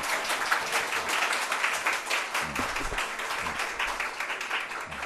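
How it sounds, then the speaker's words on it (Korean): Applause from a church congregation during a sermon, a steady broadband patter of many hands clapping at moderate level, with faint voices and a few low thumps underneath. "이때는 박수가 나와야지 않을까요?"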